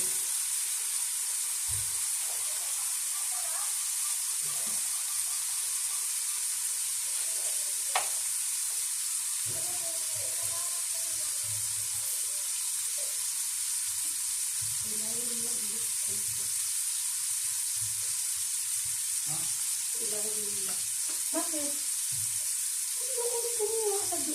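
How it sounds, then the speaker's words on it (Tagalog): Pork leg (pata) sautéing in a pan for a small family feast, a steady broadband sizzle running throughout with intermittent stirring and scraping noises, close and without speech. "Igigisa po muna natin."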